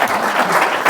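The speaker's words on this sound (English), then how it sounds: "Oh, and a round of applause, I think, for that." A brief, dense burst of audience applause at a public conversation about the painter Howard Hodgkin, with many hands clapping together into an even wash of noise.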